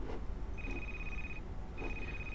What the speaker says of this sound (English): So let's answer this phone.